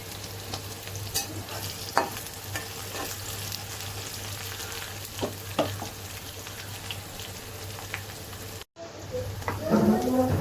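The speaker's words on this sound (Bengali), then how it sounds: "আমার পেঁয়াজটা একটু ভাজা ভাজা হয়েছে, হালকা বাদামি কালার হয়েছে।" Onions and green chillies frying in oil and being stirred, a dense steady sizzle with irregular scraping clicks of a utensil against the pan, close and fairly loud, with a brief dropout near the end followed by a louder burst.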